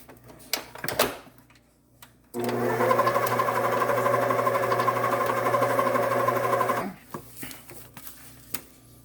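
Electric mixer beating Oreo pound cake batter, a steady, loud motor whir that starts abruptly, runs for about four seconds and then cuts off, with brief clatters before and after.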